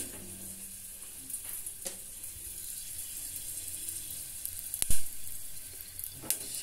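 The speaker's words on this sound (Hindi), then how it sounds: "तो हम इस रिफाइंड को गर्म करेंगे।" Refined oil heating in a pan for egg biryani gives a soft, steady sizzling hiss, with a few sharp clicks and one brief louder knock near the end.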